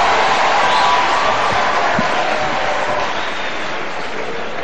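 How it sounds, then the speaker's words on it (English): A state house audience applauds a high school narration performance with steady, dense clapping that fills the space, loud and sustained throughout without a break. "Another round of applause for Otongolotai."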